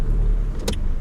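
A car driven by a learner driver revs and accelerates on a slippery surface, with a steady low engine rumble and a brief burst of tire noise, no talking.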